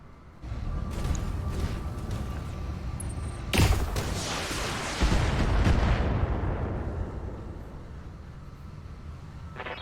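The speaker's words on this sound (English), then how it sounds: "I'm under heavy fire." Heavy weapons fire in Battletech urban warfare, a sustained rumbling barrage with a sharp loud blast near four seconds and another heavy surge after, then the roar fading out slowly.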